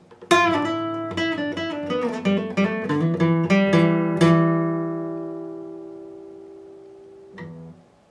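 A guitar solo played quickly at full speed, with bright picked notes in rapid succession, then a long ringing fade and one final soft note.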